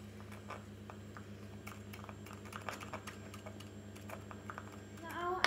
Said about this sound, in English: now I'm gonna dice some parsley to give it some green color